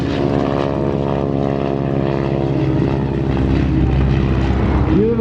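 A propeller-driven airplane performing aerobatics at an airshow, its engine droning loud and steady throughout with a slowly shifting pitch as it maneuvers.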